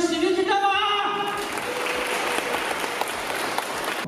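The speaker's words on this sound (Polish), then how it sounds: "Wielkie brawa!" An audience at the Copernicon 2018 cosplay contest breaks into loud, sustained applause that fills the room. A host's voice is heard briefly at the start before the dense clapping takes over and continues steadily.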